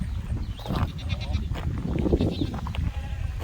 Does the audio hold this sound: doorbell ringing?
no